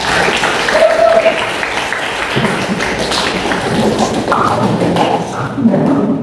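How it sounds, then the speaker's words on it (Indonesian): Students in an Indonesian classroom clap their hands on a teacher's cue, a steady close patter of claps mixed with taps and thuds, with a voice briefly heard under it. "Kata Bapak semuanya tepuk tangan."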